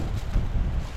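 Steady wind buffets the microphone outdoors after a flood, with a low, rumbling roar that surges and dips throughout.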